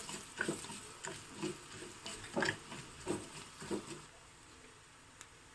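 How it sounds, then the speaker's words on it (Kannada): Coriander seeds sizzle in a hot pan with frying urad dal for a traditional Mangalore Brahmin dish. Soft crackles come in short stirred bursts, faint and close, then settle into a quiet hiss. "ನಂತರ ಈಗ ಕೊತ್ತಂಬರಿ ಕಾಳನ್ನು ಹಾಕ್ತಾ ಇದ್ದೀನಿ."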